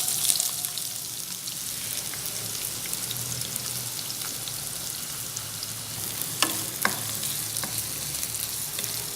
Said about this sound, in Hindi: प्याज को फ्राई कर लें।